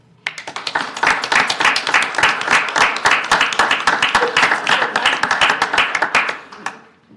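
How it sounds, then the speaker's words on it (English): Dense, steady clapping from an audience at a city council meeting, loud and close, sustained for several seconds before tapering off at the end. "You notice he clapped for himself."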